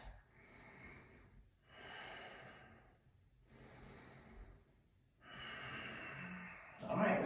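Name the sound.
breathing during yoga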